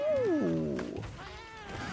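Cats meowing in the Monster Hunter Wilds video game: a drawn-out, falling meow is followed by a second wavering cry, both close and clear with no voices over them.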